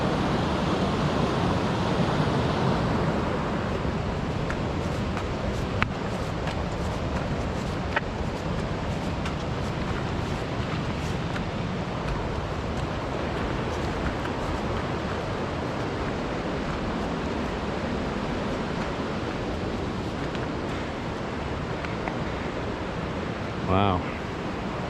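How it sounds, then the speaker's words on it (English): The Elwha River torrent after an atmospheric river roars continuously, a loud broad wash of churning water close by, steady throughout with a brief sharp sound near the end. "Look at that torrent of water coming through here."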